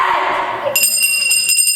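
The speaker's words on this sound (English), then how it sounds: "It's just as if I didn't ring at all." A hand bell rung on stage during a theatre performance of a comedy, bright metallic ringing that starts partway through and repeats in quick, uneven strokes over a murmur of room sound.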